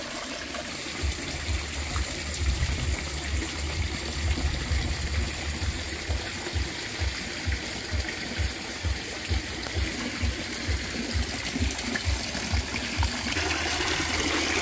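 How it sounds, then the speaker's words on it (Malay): Hill water flows steadily down into a forest pool in a steady rushing trickle and gush, fairly constant and moderately distant, with no voices. "Yang ni air daripada bukit."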